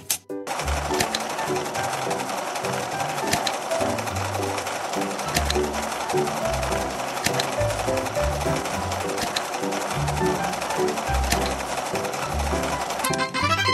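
A sewing machine in a dress-up video game stitches pieces of clothing together, a continuous rapid mechanical chatter with repeating low thumps under bright game music throughout, no talking.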